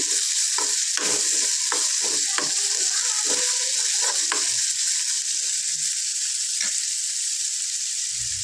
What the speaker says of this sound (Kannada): ಇದೆಲ್ಲ ಹಸಿ ಹೋಗೋವರೆಗೂ ಚೆನ್ನಾಗಿ ಫ್ರೈ ಮಾಡ್ಕೊಬೇಕು